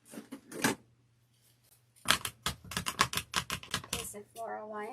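Quick, crisp snipping and cutting clicks while a hole is cut for a horse-themed wreath, a few cuts early, then a rapid burst of sharp taps, with a low steady hum beneath and a voice at the end.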